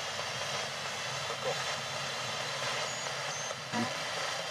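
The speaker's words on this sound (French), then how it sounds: "Je crois qu'on entend un avion." An airplane drones steadily overhead as a broad, distant engine rumble that persists throughout, over a quiet outdoor setting near an old World War II factory.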